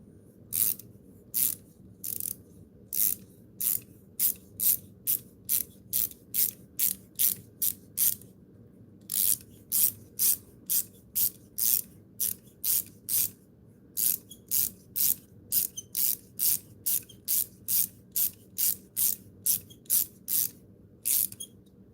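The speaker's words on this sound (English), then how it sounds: "I have to grab my T15 and loosen it." A T15 Torx driver loosening a screw on an Enduro knife makes a steady run of sharp ratcheting clicks, dozens of them in quick even bursts, close up and alone.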